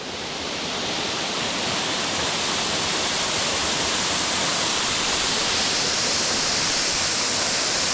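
Water cascades down a waterfall in Craik Forest, a loud, dense, continuous rushing roar heard up close, steady throughout with no voices.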